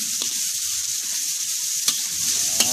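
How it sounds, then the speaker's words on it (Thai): Catfish frying in a pan with kaffir lime leaves and chili, a steady loud sizzle with a few brief scrapes of stirring. "เอาปลาดุกลงไปครับผม นะครับคนให้เข้ากันครับใส่ใบมะกรูดใส่พริกลงไปครับ"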